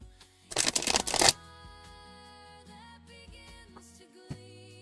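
A deck of tarot cards riffled in a short, dense burst of papery flutter near the start, then quiet handling with faint tonal music in the background.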